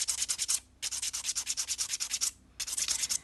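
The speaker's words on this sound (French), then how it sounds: "Je vais limer le plateau" Quick rhythmic filing strokes on an artificial nail as its plateau is shaped, three bursts of fast, even back-and-forth rasping with short pauses between, close up and alone.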